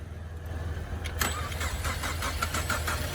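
A Ford Mustang engine cranks with rapid rhythmic turning over, then catches and settles into a running rumble, heard up close.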